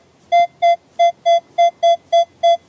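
A Minelab X-Terra Elite metal detector beeping over a musket ball, nine clear, evenly spaced electronic tones in a quick steady rhythm, loud and close with no talking.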